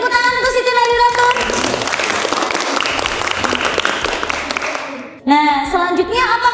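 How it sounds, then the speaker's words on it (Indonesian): A classroom audience bursts into steady applause for a student that swells and holds for several seconds, then cuts off as bright music or tones return. "Beri tepuk tangan untuk Siti Nadiratun."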